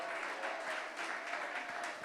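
A church congregation applauding during a sermon, a steady wash of clapping from many hands filling the short stretch at moderate level.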